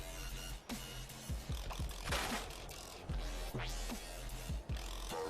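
A giant ammo converter machine runs in the Fallout 76 base builder, churning out steady mechanical clunks, ratcheting clicks and whirring pulses in an irregular, busy rhythm close by.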